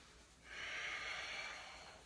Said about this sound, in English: I'm breathing in and out through my nose,